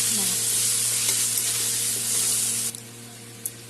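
Whole cumin, turmeric and potatoes in a hot pan give a steady, close sizzle with a faint spatter, then the frying drops away to near quiet with a couple of small clicks.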